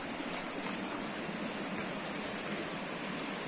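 A river flows in a continuous, even rush of water, moderately loud and close, a steady broadband wash without speech or other sounds.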